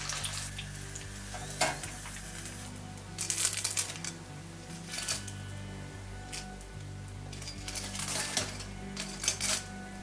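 Deep-fried shrimp spring rolls are lifted from hot oil and set on a rack, with quiet bubbling under light metallic clinks and scrapes in a few short clusters, fairly faint throughout.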